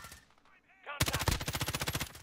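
Gunfire in Call of Duty Warzone, a loud close burst of rapid automatic shots in a steady rhythm, preceded by brief game sounds.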